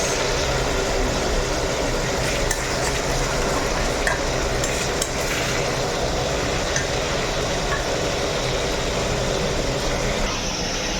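Desi chicken leg pieces fry in a pan, a loud, dense sizzle running continuously with scattered crackles and the occasional scrape of a spatula, no voices.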